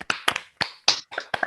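A few scattered handclaps from a small seminar audience on a video call, sharp and close, sparse and uneven with gaps between them.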